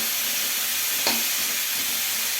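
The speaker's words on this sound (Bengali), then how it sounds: "ফোড়নটির সাথে আমি বেশ কুমড়োটি ভালোভাবে মিশিয়ে নিলাম।" Pumpkin pieces stirred and frying in a pan with spice tempering, a steady close hiss and sizzle with one brief scrape of stirring, no voices.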